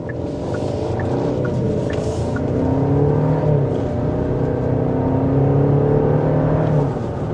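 A 2026 Genesis GV70 2.5T crossover accelerating, a smooth, steady engine hum heard from inside, rising gently in pitch with no voices.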